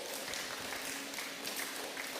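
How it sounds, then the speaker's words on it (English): Steady applause from an audience at the end of a talk, a dense wash of claps filling the room continuously without pause. "Can you give our resource fellow a round of applause?"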